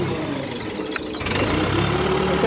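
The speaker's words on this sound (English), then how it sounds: "So when I push my switch, my engine is starting." An engine on a mobile screen starts from an emergency switch, cranking briefly and then settling into a steady, close, rumbling idle that grows slightly louder with a faint rising whine.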